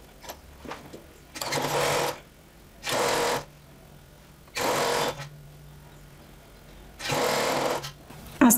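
Four separate bursts of a sewing machine stitching a blouse collar, each a loud, close, steady whir lasting about a second, with quiet pauses and faint handling noise between them.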